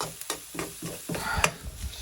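Cheap Aldi chilli stirred and sizzling in a pan for a homestyle curry, with repeated scraping stir strokes over a steady crackling fry, close and moderately loud.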